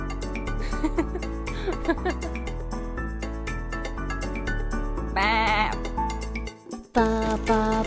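Sheep bleating within a children's nursery rhyme song, sounding as a short wavering cry over bouncy music near the middle, alongside singing.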